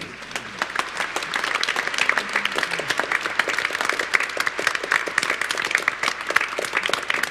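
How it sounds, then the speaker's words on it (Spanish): A church congregation at Mass claps to welcome a visiting bishop, dense rapid applause that starts slightly softer and then fills the room loudly and evenly, with a faint voice briefly audible near the start. "Pido un aplauso para él."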